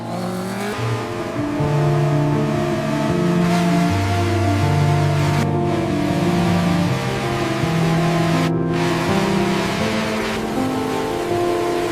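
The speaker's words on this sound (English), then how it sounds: "you jump into your sports car and floor it on the dark highway" A loud sports car engine revs hard and climbs in pitch, stepping through several gear changes as the car accelerates on a highway.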